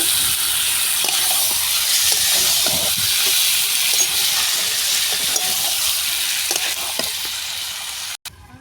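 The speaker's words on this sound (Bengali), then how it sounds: "দেখো আমাদের মাংসটা কীরকম রান্না করছি আমি" Chicken meat frying in a pan gives a steady, loud sizzle and hiss, with faint scraping stirs now and then, close by and with no voices, ending in a brief clunk.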